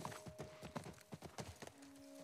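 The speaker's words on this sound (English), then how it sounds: "I think we need to get on the horse." A horse's hooves clip-clop in a quick, steady rhythm of sharp knocks in the video game The Last of Us Part I, close and clear over faint sustained musical tones, with no talking.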